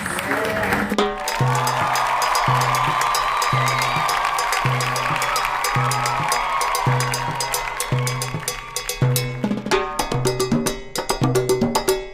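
A studio audience applauds for a singer, the sentimental rocker, with sustained clapping and some cheers over a rhythmic musical intro, the clapping thinning toward the end.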